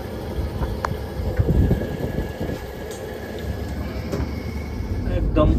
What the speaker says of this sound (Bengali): একদম অন টাইম ট্রেন ছেড়ে চলে যাচ্ছে কমলাপুর রেল স্টেশন